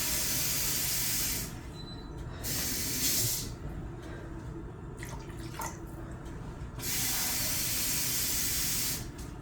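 Water being added to a hot pan of taco-seasoned beans, a strong hissing sizzle in several long surges with brief quieter gaps between pours, close and steady, with no one speaking.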